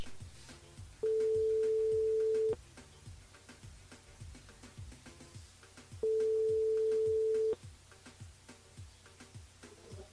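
A telephone line rings out during an outgoing call from a live radio show, two long steady beeps separated by a pause, over faint background ticking.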